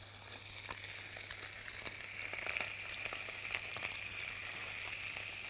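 Mullet fish fries in a pan with a steady, soft sizzle and light crackling throughout, fairly quiet and close, with no talking.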